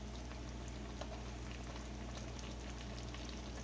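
Ramen broth simmering in a pot, a steady dense bubbling and fizzing hiss with a low constant hum underneath, continuous and fairly quiet throughout with no voices.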